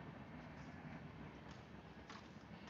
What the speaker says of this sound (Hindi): वहाँ से ट्रेन जा रही है।